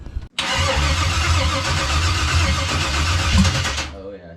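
An LS V8 swapped into a G-body car cranks loudly and close, a steady churning starter-and-engine drone for several seconds before cutting off abruptly.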